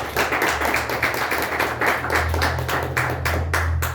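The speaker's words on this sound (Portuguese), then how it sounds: "aplauda Jesus por isso" A church congregation applauds during a sermon, many hands clapping steadily and densely for the whole stretch, loud and close, with a low hum underneath.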